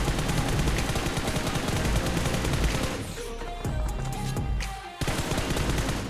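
Rapid automatic gunfire rattles in PUBG Mobile, loud and dense, with rhythmic bursts that drop into a brief lull with separate shots before the sustained firing resumes, and no talking over it.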